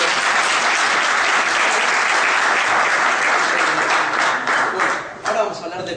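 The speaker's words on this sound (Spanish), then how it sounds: "Le damos la bienvenida con un aplauso." Audience applause welcoming a speaker at a medicinal cannabis talk, a full, steady wash of clapping from a seated crowd that thins out and fades near the end.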